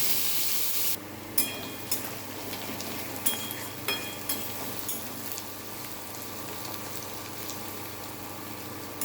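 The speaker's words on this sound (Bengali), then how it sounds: "বেশ করে পেঁয়াজ দিতে হবে, পেঁয়াজটা লাল লাল করে ভেজে নেব" Onions frying in a pan for an egg curry, a steady close sizzle with occasional sharper pops and stirring scrapes throughout.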